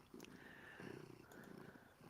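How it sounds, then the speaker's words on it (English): A cat purring while sitting on a person's lap indoors, a soft continuous low rumble that pulses in steady breaths, close and fairly quiet, with no talk over it. "He is sitting down here in my lap just purring away."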